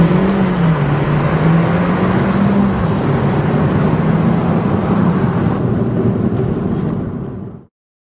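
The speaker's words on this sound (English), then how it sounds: "Suzuki claim a 0 to 100 sprint of 8 seconds, but I'm not convinced." A 2019 Suzuki Swift Sport automatic accelerating hard from 0 to 100 with traction control off, a loud steady engine and road roar with rising tonal drone, continuous for about seven seconds before cutting off abruptly.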